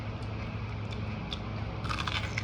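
A close, crisp crunch comes from biting into raw green bell pepper spread with cream cheese, with a burst of crackly bite noise near the end over a low background hum.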